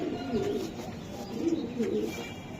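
Racing pigeons kept in a cage at a farm coo in a few soft, low, rolling calls, fairly faint and close by, with some chirps mixed in.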